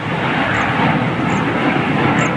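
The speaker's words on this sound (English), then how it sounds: "Little hop Embraer going out." An Embraer jet departing at Toulouse gives a steady, loud broadband engine roar, constant and close throughout the short moment.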